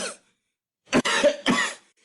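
Close, sharp coughing: a short burst, a pause, then a rough double cough that trails off.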